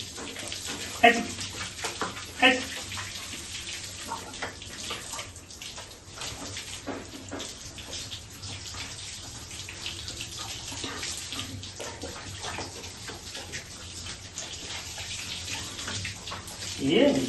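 A dog is bathed with running water, a steady splashing, pouring wash that runs throughout at moderate level, with voices talking intermittently over it.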